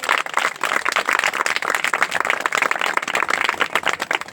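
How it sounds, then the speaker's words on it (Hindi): A crowd claps loudly and steadily at a village engagement ceremony as the bride-to-be garlands her fiancé, with dense overlapping hand claps filling the whole stretch and no speech on top. "जोरदार ताली बजाओ।"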